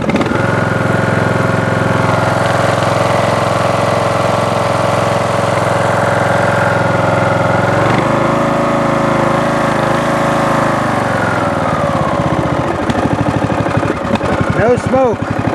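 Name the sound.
Briggs and Stratton small engine idling after head gasket repair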